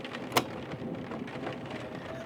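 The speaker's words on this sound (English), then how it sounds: "The rain continues its relentless assault on the car." Rain drums steadily on a car during a storm, a soft continuous patter heard from inside with one sharp knock early on.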